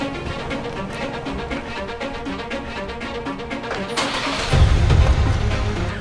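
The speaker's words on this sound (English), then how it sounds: "Sending start command to your vehicle." A 2019 Ford Edge engine starts remotely, a steady hum giving way at about four seconds to a louder, low rumble as the engine catches and settles into a strong idle.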